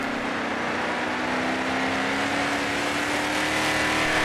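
Racing trucks at a Retro Revolution race at Flat Rock Speedway, engines roaring and revving together in a loud, sustained drone whose pitch slowly climbs as the pack accelerates.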